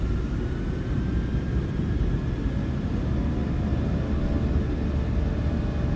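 Twin engines of a PMDG 737-800 spooling at takeoff thrust in Microsoft Flight Simulator 2020, a loud, steady, unbroken roar with a deep rumble and a faint high whine, running alone throughout.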